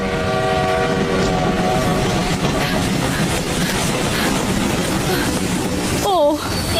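A train rumbles steadily along the rails, loud and near, its horn sounding in long tones at the start and blaring again near the end, with voices faintly talking underneath.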